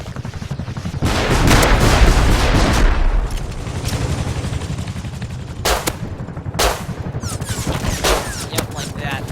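An attack helicopter in the Rust video game firing on the player: rapid bursts of gunfire with a sustained barrage early on, then sharp separate blasts against a constant rumbling background.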